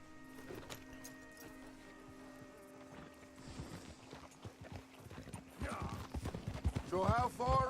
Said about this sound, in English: Look at all our horses just trotting up here at once.